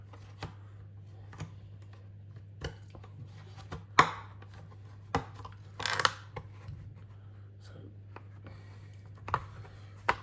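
Scissors snip a plastic inner fender for a Traxxas Maxx Slash RC truck in short, sparse clicks and crunches, with a couple of louder cuts over a low steady hum.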